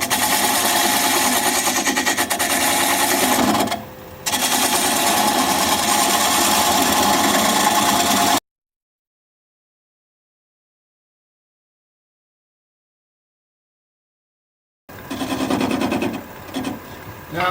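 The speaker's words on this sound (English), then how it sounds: "I'm going to take this 3/8 inch standard grind bowl gouge and begin to removing the tenon." Wood lathe spinning at about 600 RPM while a 3/8 inch standard grind bowl gouge cuts away a tenon on an odd-shaped, out-of-balance piece, giving a steady loud continuous whirring cut with a brief dip, a long silent gap, then resuming.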